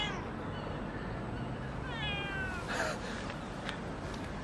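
A cat meows once, a short clear mid-distance call rising out of steady background noise during a live electric unicycle show.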